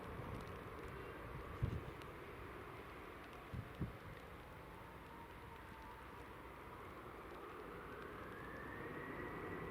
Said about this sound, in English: Jet 2 is just departing now.